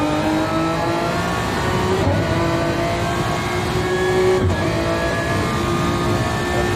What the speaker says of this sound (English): It's bumper to bumper racing into Spoon early on the brakes lifting.